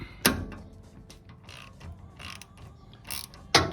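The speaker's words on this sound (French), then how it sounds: "Je passe en bas sur la clé 6 pans." A hex key turning a brake caliper bolt on a 2009 Lotus Elise SC, making ratcheting metallic clicks and creaks with sharper clanks at the start and end, close and moderately loud, without speech.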